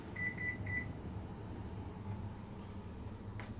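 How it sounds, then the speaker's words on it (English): Three quick electronic beeps from an oven timer being set sound early, close and clear, followed by a low steady appliance hum and faint room noise. "We're gonna set our timer"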